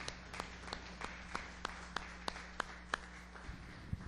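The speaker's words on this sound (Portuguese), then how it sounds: "uma salva de palmas ao Senhor" A church congregation claps in praise, a faint, slow train of a dozen or so steady, evenly spaced claps over a low background hum, ending with a couple of softer knocks.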